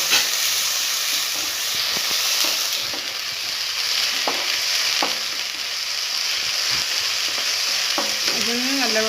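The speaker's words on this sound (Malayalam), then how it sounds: "അതിൻ്റെ പച്ചമണം പോകുന്നത് വരെ ഒന്ന് ഇളക്കി കൊടുക്കാം" A coconut-roasted curry base for kadala curry sautés in a pan with a loud, steady, close sizzle, broken by scraping spatula strokes and occasional clinks as it is stirred. No voices.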